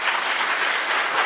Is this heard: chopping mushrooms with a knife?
no